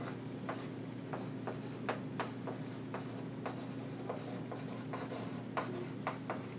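Chalk or marker scratches and taps on a board in a series of short, quiet strokes over a steady background hum.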